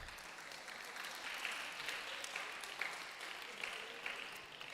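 Steady applause from a crowd at a community development and donation ceremony in Abura, moderate and even with scattered sharper claps, continuing without a break.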